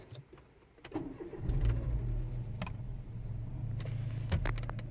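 A 2003 Renault Megane II 1.6 16v starts up after a brief crank, settling into a steady, fairly close idle with a couple of light clicks and knocks over the engine's hum.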